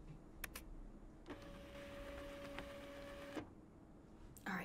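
A printer in the video game Life Is Strange runs for about two seconds with a steady mechanical whir, framed by brief clicks before and after, at low volume.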